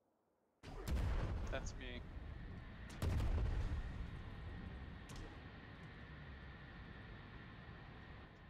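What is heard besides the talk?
cannon fire in a video game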